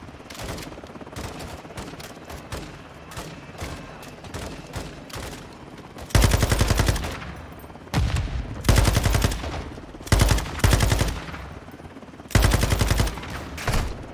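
Light machine gun fire in a video game: a steady spray of rapid shots at first, then several loud, sustained automatic bursts separated by short pauses.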